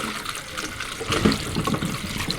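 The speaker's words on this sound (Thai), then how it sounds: "ล้างน้ำให้สะอาดอีกรอบหนึ่งนะครับ ล้างเลยนี่ร้อนๆเนี่ยไม่ต้องกลัว" Water runs steadily over hot cooked mushrooms as they are rinsed, giving a continuous splashing, trickling wash that swells slightly midway, close and alone.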